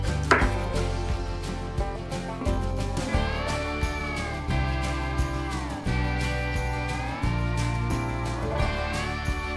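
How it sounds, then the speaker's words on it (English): A knife chops through a head of cauliflower on a cutting board in a home kitchen, with repeated short cuts sounding under steady background music. "Do a nice cut down the middle there and just chop it up however you want."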